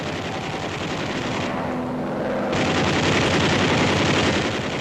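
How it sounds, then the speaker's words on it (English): B-24 bomber waste guns firing .50 caliber incendiary rounds: a dense, continuous rapid-fire machine-gun rattle, loud and close, with a heavier burst joining partway through, over the drone of the aircraft. "The waste guns use 50 caliber incendiaries to start fires."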